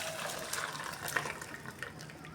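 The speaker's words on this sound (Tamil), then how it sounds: "ஃபில்ட்ரு வச்சு அதில் ஊற்றிக்கணும்." Liquid poured through a filter for rasagulla chenna, a steady close splashing trickle running without a break, no talk.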